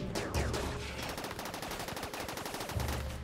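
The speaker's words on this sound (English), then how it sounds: "are you trying to breach with your blaster cannons now?" Mechanoid blaster cannons firing in the RimWorld video game: a rapid, steady stream of sharp electronic shots, loud and close, with no talk.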